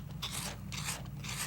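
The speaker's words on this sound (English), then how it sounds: "Now I'm going to use my flexible metal rib and support, and I'm just going to scrape horizontally" A flexible metal rib scrapes horizontally across the clay wall of a coil-built vase, three short rasping strokes in steady rhythm, close and fairly quiet, with no talking.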